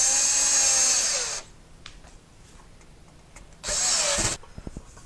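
A power tool driving screws into a pool table light fixture, two loud whirring bursts separated by a quiet pause with small clicks and taps.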